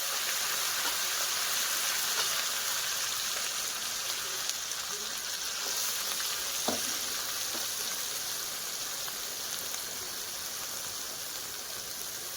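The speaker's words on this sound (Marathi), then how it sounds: "तेल गरम झालेलं आहे, जिरे टाकली, अर्धा चमचा जिरे आहे. तर आपल्याला अर्धी ग्रेव्ही टाकायची आहे." Gravy poured into hot oil with half a spoon of cumin sizzles and hisses steadily, a bright crackling fry heard close up with a few sharper pops, slowly easing over the stretch.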